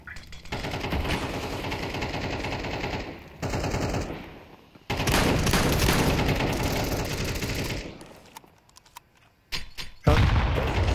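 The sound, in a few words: shotgun fire in the video game Counter-Strike 2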